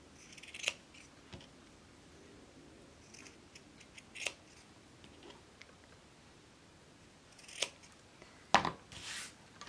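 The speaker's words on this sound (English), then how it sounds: "now I'm just going to trim around the edges" Scissors trim the fabric edges of a sewn axolotl plushie, four or five quiet, separate snipping cuts spaced a few seconds apart in a still room.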